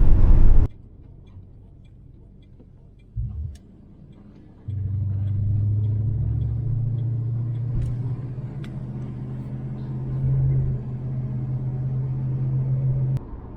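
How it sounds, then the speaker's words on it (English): A 1970 Dodge Coronet 440 with a new carburetor and electric choke starts with a short loud burst, idles quietly with ticking, then settles into a steady low rumble as it pulls away, with a brief rise in revs partway through. "we're gonna get hopefully some good video of it moving"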